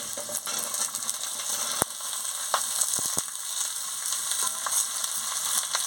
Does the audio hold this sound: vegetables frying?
yes